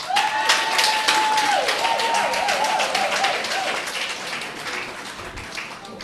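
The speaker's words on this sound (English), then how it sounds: "Your clapping and noise is not good." An induction ceremony audience claps together in quick, regular rhythm alongside a wavering sustained whistle or sung tone, the crowd noise steady and then easing off.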